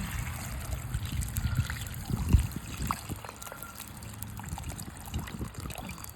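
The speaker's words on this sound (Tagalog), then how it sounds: "Okay, lagyan na natin ng tubig." Water poured into a pot of browned beef for a Filipino beef soup, a steady trickling and sloshing pour heard close up at moderate level, with a brief louder splash partway through.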